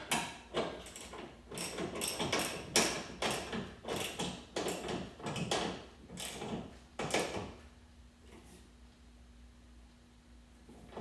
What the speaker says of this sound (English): I'm just gonna use a crescent wrench here and my socket to get these tightened